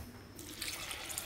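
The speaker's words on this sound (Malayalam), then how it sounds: "ആവശ്യത്തിന് വെള്ളം ഒഴിക്കുക." Water streams steadily into a pressure cooker holding washed lentils, a continuous splashing pour that starts partway through and stays close and moderately loud.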